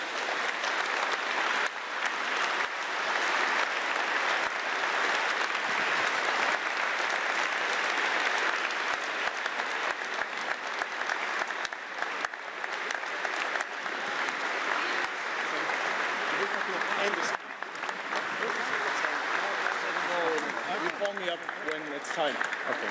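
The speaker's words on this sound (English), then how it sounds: "welcome the Bundeskanzler of Germany, Mr. Merz, with a warm applause" Warm applause from an audience of EU leaders and delegates in Antwerp welcoming German Chancellor Merz, a sustained wash of clapping that holds steady for over twenty seconds and shifts slightly near the end.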